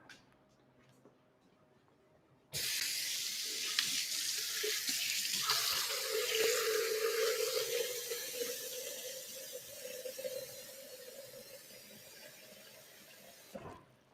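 Water runs from a kitchen tap during cooking, a steady broadband rush that starts abruptly, holds loud and close for about eleven seconds with a faint tonal hum, then cuts off.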